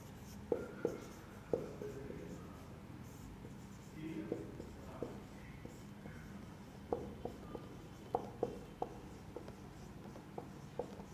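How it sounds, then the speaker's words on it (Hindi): Chalk taps and scratches across a classroom board while ancient Indian history is written up, the strokes coming in quick clustered bursts over a quiet room with faint talk. "यहाँ पे प्राचीन भारत का इतिहास लिख देता हूं।"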